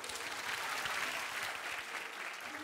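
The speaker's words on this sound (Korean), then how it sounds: "박수 주세요" A studio audience at a Korean comedy show claps in a short, lively burst of applause, dense and even throughout, with no talking over it.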